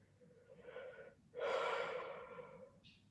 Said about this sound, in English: I know that you allow him to yawn to be able to release the energy